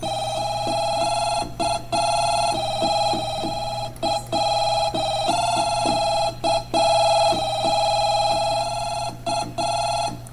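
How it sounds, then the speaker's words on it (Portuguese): An electronic telephone ringtone from a keyboard, bright warbling tones repeating in short bursts with brief gaps, loud and steady throughout. "Eu coloquei o timbre para quê? Para ser telefone."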